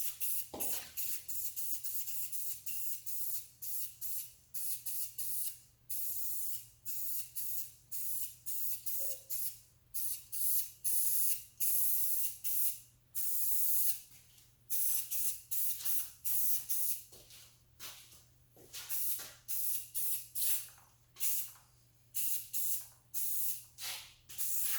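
Spray paint hisses in repeated short bursts onto Corvette fuel rail covers, each puff loud and close with brief gaps between, applied as a second coat along the edges.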